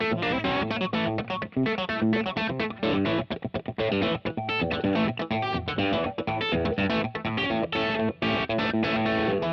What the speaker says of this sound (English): Let's add a little distortion on here so you can hear what it sounds like with a little overdrive.